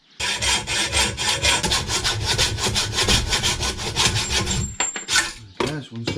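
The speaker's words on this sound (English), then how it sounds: "so this is your best sort of file" Hand file scraping back and forth on a DMR bike handlebar, fast rhythmic rasping strokes that are loud and close for about five seconds, then a few slower strokes.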